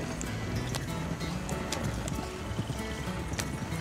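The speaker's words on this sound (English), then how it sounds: "I got a horse named Cow" Horse hooves clip-clop steadily in Red Dead Online, a continuous rhythmic trotting under dense ambient game noise, with no talking.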